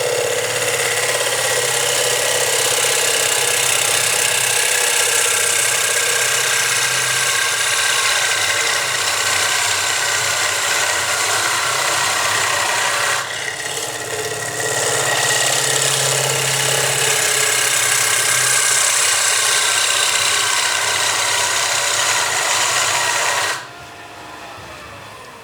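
A wood lathe turning a large salad bowl gives a continuous loud hum and whir close by, steady for most of the stretch with a brief dip midway, then drops to a quieter drone near the end.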